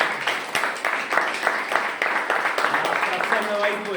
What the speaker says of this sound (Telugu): గట్టిగా చప్పట్లు కూడా.